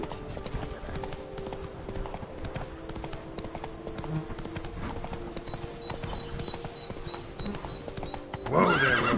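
Roach the horse gallops in The Witcher 3 with rapid, close hoofbeats over a game music bed, ending in a loud neigh.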